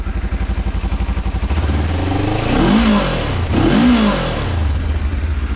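A motorcycle engine idles with a rapid throbbing putter, then revs up twice in rising and falling bursts before settling back to idle; loud and close.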